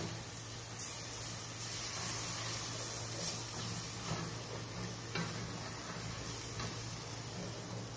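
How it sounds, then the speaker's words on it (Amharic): Chopped onions sautéing in a pan for a lamb stew, with splashes of water added and stirred, give a steady close sizzle broken by soft stirring scrapes, with no talking. "ይሄንን እንደዚህ እያረኩ ሽንኩርቱ እስኪበስል ትንሽ ውሃ ጠብ እያረኩኝ"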